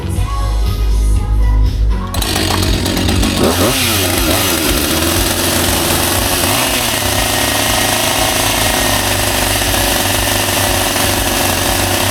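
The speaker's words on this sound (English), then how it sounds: "Get the chainsaw. We'll give her a little slice." A loud, continuous engine roar of a chainsaw running and revving, rough and buzzing, with no pauses throughout.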